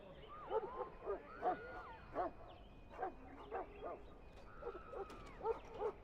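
A Mabari war hound in Dragon Age Origins, loose in a castle kitchen, gives a rapid series of short yips and barks mixed with whimpers. The sound is fairly faint, with a steady hum underneath.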